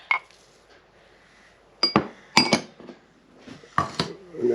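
Egg, lemon zest and orange zest being mixed for a holiday fruit cake, with a few separated clinks and knocks of a utensil against a bowl between quiet stretches.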